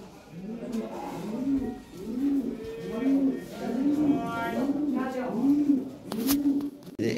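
Lahore pigeons coo in a steady rhythmic series, about a dozen low, rounded calls repeating close by at a moderate level, with faint background voices.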